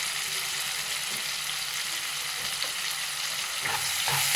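Ginger and garlic sizzle steadily in hot oil in a pan for tomato biryani, a continuous close frying hiss with a few soft stirring scrapes and a slight swell near the end.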